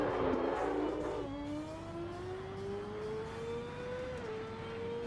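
A higher-powered rallycross car in the Assetto Corsa racing game revs its engine loudly and steadily, the pitch climbing smoothly through a long rise with a brief dip near the end, heard close and alone with no talk.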